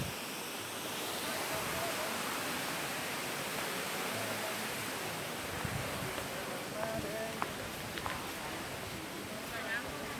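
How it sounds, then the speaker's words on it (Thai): A waterfall at Wat Tham Pha Daen temple in Sakon Nakhon, Thailand, gives off a steady, even roar of rushing water that fills the whole stretch without pause. "เป็นน้ำตกครับผม"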